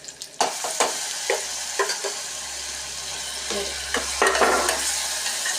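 Masala for a green peas kurma fries in hot oil with a steady broadband sizzle while a spoon scrapes and stirs it in uneven bursts, close and fairly loud, with no talk.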